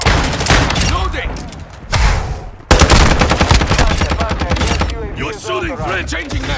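Rapid automatic gunfire in Call of Duty Modern Warfare 2 multiplayer, loud bursts crackling in quick succession and mixed with mechanical clatter, while in-game radio voices talk over the shooting.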